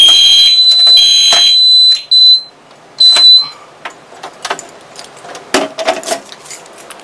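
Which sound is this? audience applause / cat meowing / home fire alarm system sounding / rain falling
home fire alarm system sounding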